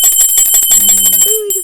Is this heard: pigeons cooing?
no